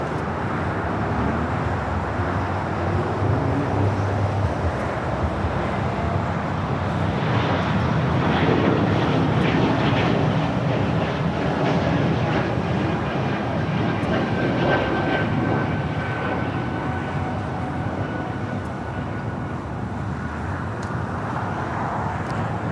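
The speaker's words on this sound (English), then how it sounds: "All right, E2 rolling down the 25 right." An Embraer E2 jet rolls down runway 25 right at LAX, its engines producing a sustained, moderately distant roar and whine that swells slightly midway and persists steadily, mixed with faint airport ambience.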